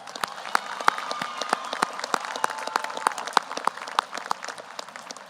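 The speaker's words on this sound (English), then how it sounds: "Let's give them a round of applause." A high school graduation audience gives scattered, moderate applause, individual claps standing out sharply from a softer wash of clapping in a large space.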